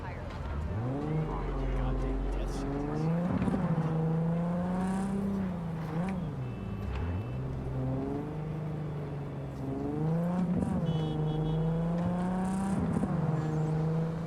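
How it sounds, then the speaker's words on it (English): A car engine in the video game Cyberpunk 2077 hums steadily while driving through Night City, rising and falling in pitch as it revs and shifts, loud and continuous under faint background sounds. "Car sounds good."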